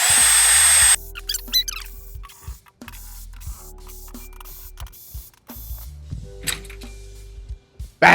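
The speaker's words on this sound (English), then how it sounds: "I'm gonna tighten them with the drill too" A power drill whirs in repeated short bursts, tightening snare drum tension lugs, close and loud, with brief pauses and mechanical clicks between spins.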